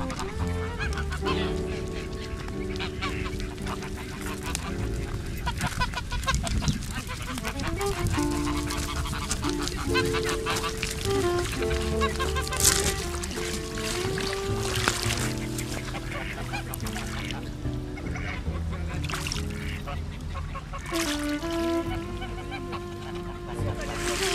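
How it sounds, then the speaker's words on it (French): Geese honk repeatedly amid a dense, busy background of voices and engine-like noise, the calls loud and overlapping throughout, near Georgioupolis, Crete. "si on allait embêter un petit peu les oies."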